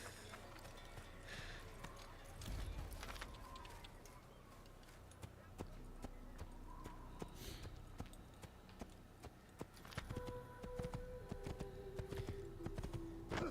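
Horse hooves gallop in Assassin's Creed, set around Acre, as a steady run of clip-clop beats over busy game ambience with no clear break.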